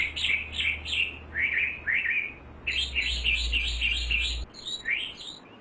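A pet thrush kept in a cage chirps repeatedly, a close, clear series of bright tweets and whistled phrases over a low background hum.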